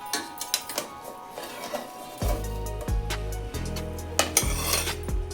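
A metal lid is lifted off a kadhai on the stove after a pizza has cooked inside, with sharp clinks and scrapes of metal, then a series of louder resonant rattles and clanks as the lid is shifted and set down.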